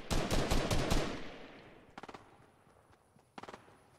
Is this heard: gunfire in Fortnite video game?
yes